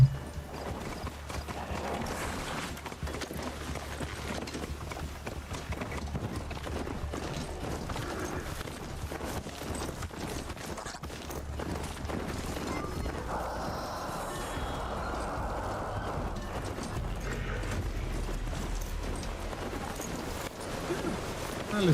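A horse clip-clops in a steady run of hoofbeats, close and continuous, with a brief neigh and people talking over it.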